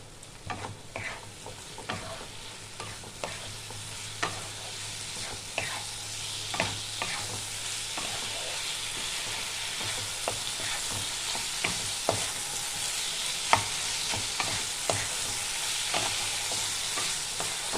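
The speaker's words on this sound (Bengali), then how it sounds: "সয়াবিন দিয়ে আমি এটা একটু নাড়াচাড়া করতে হবে।" Soybean curry frying in a pan and stirred steadily, a constant hissing sizzle punctuated by regular spatula taps and scrapes every second or so, close by with no speech.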